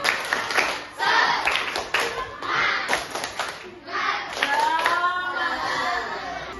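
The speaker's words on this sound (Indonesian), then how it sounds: "Ayo kasih semangat, tepuk semangat." Children in a classroom perform a rhythmic cheer clap, with bursts of patterned clapping broken by short pauses and children's voices chattering and calling out between them.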